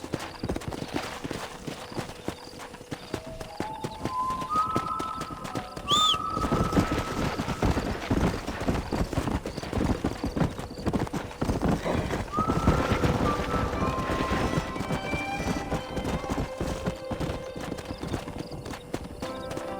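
Horse hooves clip-clop steadily through a Red Dead Redemption game scene, a continuous rhythmic trot heard up close alongside whistling, an occasional whinny and ambient game sound.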